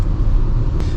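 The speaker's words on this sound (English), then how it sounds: "you can just downshift, get to a higher RPM" The small turbocharged engine of a 2022 MG ZST crossover revs after a downshift, giving a steady, loud, close engine drone with road rumble underneath, lasting about a second.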